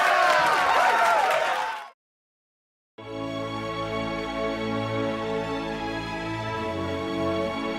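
A flock of sheep in an animated short applauds, a dense burst of crowd-like clapping lasting about two seconds, followed by a brief silence and then steady music.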